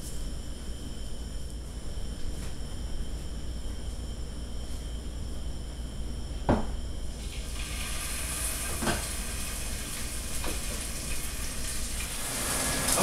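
Salmon frying in hot oil in a pan gives a steady sizzling hiss that grows brighter and louder about halfway through, with a few sharp pops and crackles.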